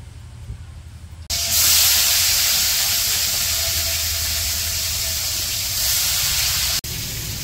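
Magur fish frying in oil in a village kitchen, a loud steady hissing sizzle that bursts in suddenly, holds for several seconds, then cuts off and drops to a lower simmer.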